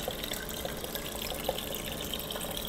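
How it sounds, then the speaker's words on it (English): Homemade apple cider wine runs from a spigot into a bottle, a faint, steady trickle and splash of liquid with a few small drips and bubbles. "I turn the spigot on and this will fill up pretty quick."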